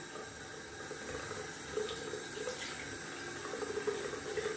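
Cold tap water runs steadily into a sink before shaving, a soft continuous splashing stream heard close and alone, with faint small bumps and clinks over it.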